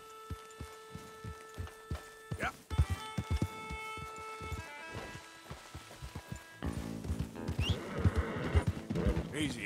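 Horse whinnies and hoofbeats in the Red Dead Redemption 2 video game, with clip-clop steps and a neigh heard near and moderately loud over a musical background, becoming busier toward the end.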